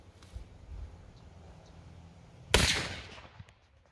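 A single sharp gunshot rings out at a shooting range, loud and close after a few seconds of quiet shuffling, then decays quickly.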